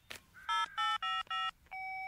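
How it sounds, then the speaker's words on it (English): A telephone being dialed in a Bob the Builder cartoon: a short click, then four clear electronic keypad tones in steady succession, ending in a longer sustained tone, close and loud with no talk. "I'll phone Bob right away and ask him to keep it safe."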